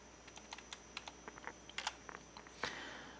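A computer keyboard clatters as a VLOOKUP formula is typed into an Excel spreadsheet. The light, close keystrokes come in an uneven run, and one louder swishing click falls near the end.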